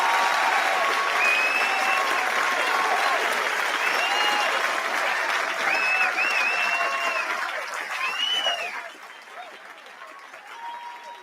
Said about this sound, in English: one huge round of applause to all of you